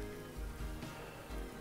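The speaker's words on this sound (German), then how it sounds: "Ja, es ist schön Regen, ne?" Steady rain falling in Farming Simulator 19, a continuous faint hiss of drops on surfaces with no voices present.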